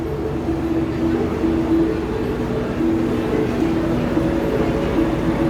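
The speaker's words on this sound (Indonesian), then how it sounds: "Kereta yang kita mau naikin datang, cuma mungkin dia nurun penumpang dulu." A steady low rumble of a Prameks commuter train rolling into a station, with a faint squeal of brakes, continuous and fairly close.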